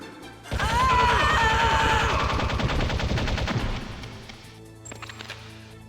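Rapid automatic gunfire in Metal Gear Solid, a loud, dense burst of shots lasting a few seconds alongside tonal game effects, then tapering off into a couple of isolated clicks.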